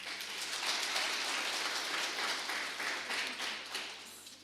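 An audience at an International Day of Biological Diversity event applauds two learners after their poem: dense, sustained clapping from a sizable crowd that swells and then tapers off near the end, with no talk.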